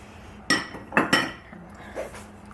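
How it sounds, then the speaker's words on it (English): A spoon stirring store-bought yogurt into milk in a pot, giving a few sharp metallic clinks and scrapes close by over about two seconds, with no talk. "what you do want to do is stir this in well"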